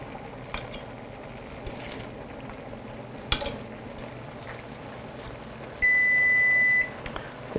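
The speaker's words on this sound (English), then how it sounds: "There's the timer." An electronic kitchen timer beeps in a steady tone for about a second near the end, over quiet kitchen background noise while linguine is being cooked.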